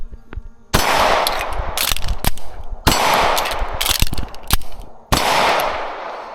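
A ported Langdon Tactical Beretta 92FS Elite pistol fired at a range from seven yards: three loud, sharp reports a couple of seconds apart, each followed by a ringing, echoing tail and smaller clanks.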